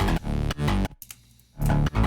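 Distorted synth bass squeezed hard by OTT multiband compression, loud, gritty, buzzing notes in choppy rhythmic bursts with a brief gap in the middle.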